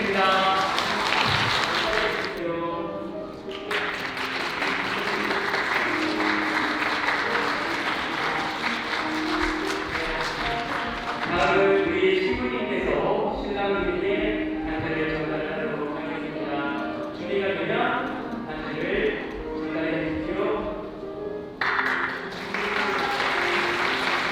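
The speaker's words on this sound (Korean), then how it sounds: "박수 부탁드립니다." Guests at a wedding ceremony in a hotel hall break into loud, sustained applause that fills the room, continuing for many seconds with brief dips before surging again.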